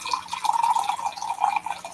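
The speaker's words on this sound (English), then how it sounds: "I didn't hear you over the pour." Jim Beam bourbon is poured into a glass, a faint, close trickle and splash that lasts about two seconds.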